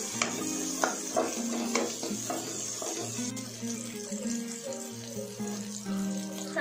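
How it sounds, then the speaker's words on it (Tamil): Onion and garlic are stirred and sautéed in a pan for a Tamil ivy gourd tamarind gravy, giving a steady, moderate sizzle with scraping strokes and small clinks throughout, with no talking. "அப்புறம் வெங்காயத்தோட வெங்காயம் பூண்டோடு நல்லா கலந்து விட்டுருங்க"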